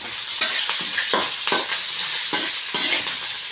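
Slit green chillies and curry leaves fry in oil for chicken egg noodles, a steady close crackling sizzle with stirring scrapes, no voices.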